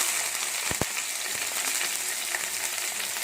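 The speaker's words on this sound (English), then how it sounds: "So we're going to fry our fish, the one that we have marinated earlier." Marinated salmon fillet frying in hot British rapeseed oil in a pan, a steady close broadband sizzle throughout with a couple of brief clicks near the start.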